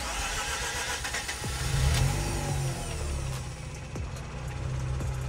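A hot Mazda RX8 rotary engine cranks with difficulty before catching, followed by a loud, close idle rumble that swells briefly and then settles steadily, with no talking.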